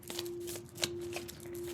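Tarot cards being shuffled and drawn, with a steady riffling, papery flutter, sharp snaps and slides close by, over a faint constant hum.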